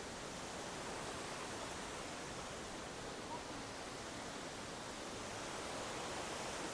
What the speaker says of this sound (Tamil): அற்புதமான ஒரு நீர்வீழ்ச்சி அதை ஷூட் பண்ண வந்திருக்கோம்